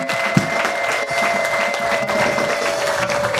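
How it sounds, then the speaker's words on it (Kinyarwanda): An audience claps steadily at a church gathering with a choir, a dense, even wash of applause that holds throughout with no pause, over a faint steady hum. "Nagira ngo tubanze twongere duhe Imana amashyi kubw'uyu mwanya mwiza yaduhaye."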